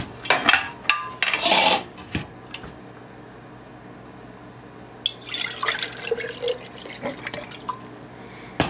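Coconut kefir liquid poured in a kitchen, with splashing and trickling bursts early on, then a quiet pause, then dripping and clinking of a container.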